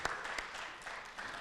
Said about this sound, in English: Please give both teams a round of applause for working hard to prepare for this debate